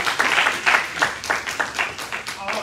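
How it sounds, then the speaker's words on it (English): Church congregation claps in praise, a lively burst of many hands with uneven pulsing rhythm, close and fairly loud, with faint voices mixed in. "Somebody ought to give him a hand clap of praise."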